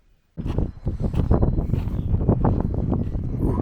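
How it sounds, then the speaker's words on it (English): Strong wind buffets the microphone outdoors in Normandy, a loud continuous low rumble with gusty surges that starts abruptly and persists throughout. "it's windy, warm and windy"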